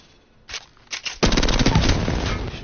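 Hip-fire gunshots from an R301 rifle in Apex Legends: a few separate shots, then a loud, sustained rapid burst of automatic fire, close and with no talking.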